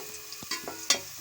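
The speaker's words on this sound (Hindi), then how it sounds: "अब हमारी ये प्याज गोल्डन ब्राउन होने वाली है।" Onions frying in a pan in a home kitchen, cooked toward golden brown: faint sizzling with a few short crackles and stirring scrapes, close and quiet with no talk.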